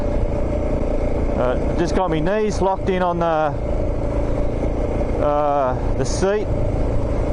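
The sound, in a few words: motorcycle riding in sand at high revs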